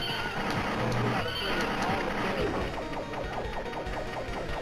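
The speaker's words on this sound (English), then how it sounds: "Until I saw him he's on a horse." A horse neighing loudly in the Capcom arcade beat 'em up Knights of the Round, a shrill whinny over clanking game effects and music while players talk.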